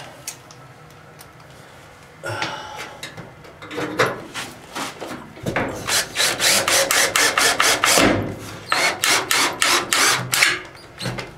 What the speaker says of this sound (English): So we get some screws going here.